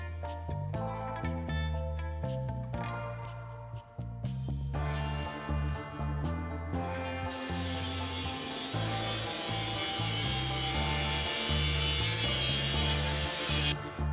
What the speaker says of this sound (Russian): Зажав тиски, вырезаю часть кольца.